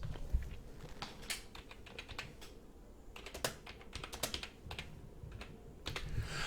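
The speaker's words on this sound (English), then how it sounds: "we type in the name in capital letters." Typing on a computer keyboard while entering an account name in capital letters into accounting software, with a steady run of close, crisp key clicks and a few louder keystrokes, no talking.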